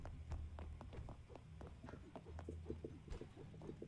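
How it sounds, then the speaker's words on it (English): Footsteps in the Project Playtime video game, a steady run of soft, evenly spaced thuds over a low hum, moderately near and fairly quiet. "I would have heard your footsteps."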